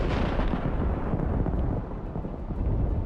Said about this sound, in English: Just one hit to the ammunition, and we can observe a very powerful explosion